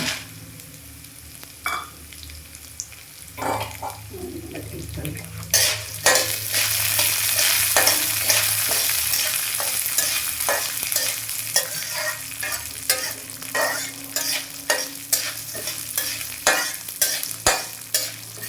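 Peanuts roasting in a pan over a medium flame, stirred steadily with a spoon, giving a continuous close sizzle with repeated scraping strokes that grow louder partway through.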